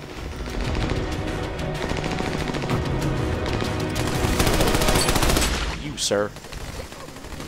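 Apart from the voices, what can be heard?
gunfire from Army of Two: The Devil's Cartel video game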